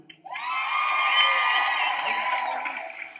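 A large concert crowd at the Louisville Palace cheers and whoops loudly, a sustained roar of voices that swells and holds for a few seconds before beginning to fade.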